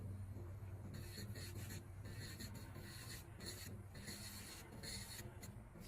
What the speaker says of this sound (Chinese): 用的是蓝标给它进行夹层皮的打磨